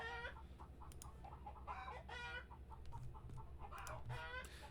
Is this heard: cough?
no